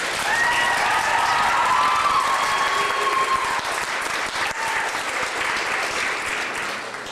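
A large audience at a Toronto charity wish event in December 2004 applauds steadily, dense clapping filling the whole stretch with a faint tonal sound drifting above the crowd noise and no talk.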